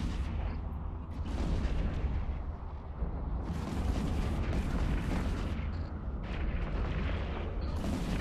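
NPC rats firing on a ship in EVE Online, a continuous barrage of booming weapon fire and rumbling impacts that holds steady and loud across the whole stretch, with no voices over it.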